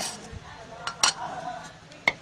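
A metal cooking pot and its lid are handled, giving light clinks and scraping chinks scattered across a couple of seconds, close and moderately loud.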